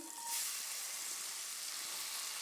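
Chopped onion frying in melted margarine for fried rice, a brief steady hiss and sizzle that starts abruptly and holds evenly at moderate loudness.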